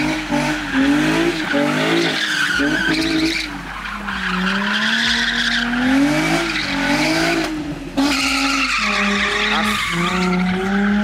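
Nissan 350Z sliding through a handbrake drift, tires skidding and squealing loudly for a sustained stretch, the pitch bending as the car swings, with engine noise beneath and short breaks between slides.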